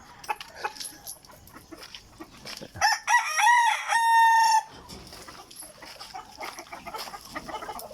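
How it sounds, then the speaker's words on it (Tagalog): A rooster crows loudly once, a long harmonic call, amid scattered clucking and soft farmyard chatter from nearby hens in a backyard flock at feeding time. "Tayo magpapakain sa ngayon ng ating mga alagang manok."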